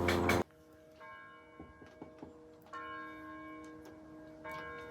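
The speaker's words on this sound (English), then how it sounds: "Vermont church bell." A church bell in Manchester, Vermont tolls with sustained, ringing tones that hang in the air, preceded by a brief loud thump, with faint ticking in the background.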